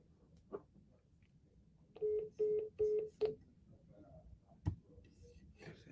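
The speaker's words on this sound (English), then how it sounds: "I'm dialing" Telephone dialing tones sound during a sales cold call, a run of four short, evenly spaced beeps, then a few faint clicks, heard over a quiet background.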